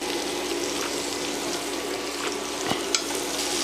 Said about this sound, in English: Now we're gonna add our butter.